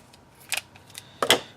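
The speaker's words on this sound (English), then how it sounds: "I just cut it too long. Just need to trim" Scissors trimming a strip of craft paper while assembling a handmade shaker card: two short crisp snips, each a quick double cut, close by and alone in a quiet room.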